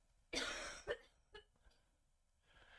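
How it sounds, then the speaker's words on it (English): A woman gives a single hacking cough followed by a few weaker coughs, heard somewhat distant in a quiet room. "She's also had to leave the room to cough her guts out"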